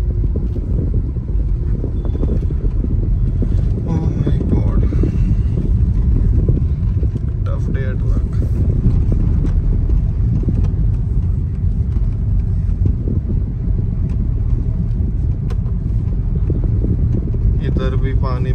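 A Hyundai Elite i20 diesel pushing through a flooded road, a steady low rumble and water-and-wind wash throughout, with someone talking over the noise inside the car.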